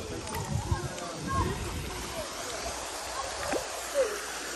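Steady rushing water of a waterfall and stream near Gelendzhik, a constant broadband wash with occasional gurgles, while people talk over it.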